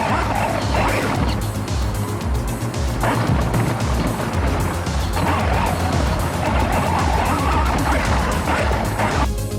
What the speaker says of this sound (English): So we put it on this RC car and we came to like the roughest place we could think of